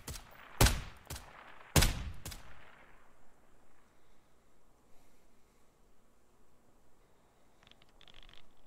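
Several sharp video game gunshots crack out in a quick cluster, loud and close, then a quieter tail of faint background noise follows.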